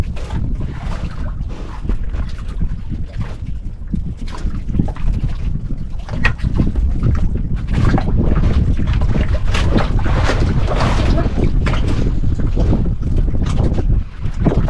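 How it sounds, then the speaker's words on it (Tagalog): Strong wind buffets the microphone aboard a fishing boat at sea, a loud, continuous low roar with gusting swells, engine-like rumble and water wash underneath and no speech. "Hangin na siya mga idol, hangin."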